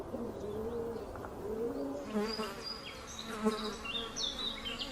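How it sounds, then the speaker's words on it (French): Flies buzz steadily and close by at a golden eagle's nest, a thin droning whine, with soft cooing of pigeons underneath. "L'aiglon est harcelé par les mouches"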